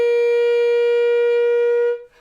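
An alto saxophone holds one steady high G, loud, bright and close, sustained for about two seconds and then released.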